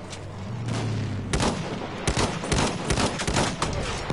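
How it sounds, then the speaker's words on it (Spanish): Enemy machine gun fire in the Battlefield 1 video game, loud, rapid bursts of shots rattling close by in quick succession over a rumbling battlefield background. "¡Ametralladora enemiga a la vista!"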